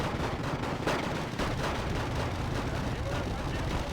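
Buratino thermobaric rocket launcher firing in the Red Dragon war game, a dense, continuous roar of explosive bursts and crackling blasts filling the whole stretch, loud and sustained, with a voice talking over it.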